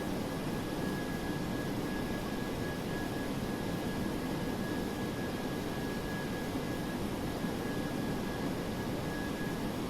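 The jet engines of a DC-8-73F cargo plane in the FSX flight simulator give a steady, unbroken roar with a thin constant whine on top, loud and even throughout, with no talk.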